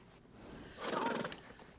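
A horse in the video game Red Dead Redemption 2 lets out a brief, fairly faint neigh, heard alone against a quiet background.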